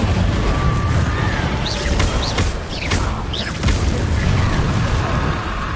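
Fire spell bursts in a Hogwarts wizarding video game: whooshing flares and booming crackles over a rumbling, busy background, loud and layered.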